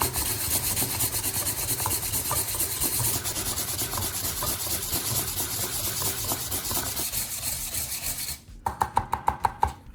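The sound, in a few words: smoothing ends with fine sandpaper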